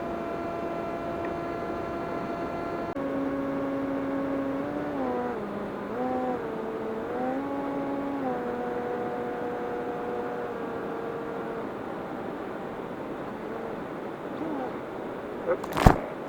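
An Eachine Blackwing 680mm FPV flying wing holds a steady electric motor whine in flight, with drifting harmonic tones rising and dipping as the throttle changes, over constant airflow noise, ending in a brief thump.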